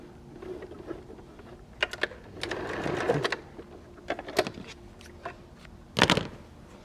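A sewing machine stitches a seam on a fabric microwave potato bag, running in short bursts with pauses between them and one louder burst near the end.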